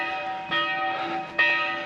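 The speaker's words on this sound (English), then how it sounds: "I know the bells are ringing" Church bells ring at midday along an alpine hiking trail, two clear strokes with sustained ringing tones that hang and decay, heard at a moderate distance with no voices.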